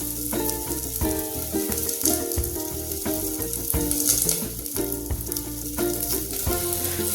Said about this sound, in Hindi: आलू को इतना भूनेंगे कि फिर थोड़ा सा लेयर ऊपर जाए, लाइट ब्राउन कलर की लेयर आए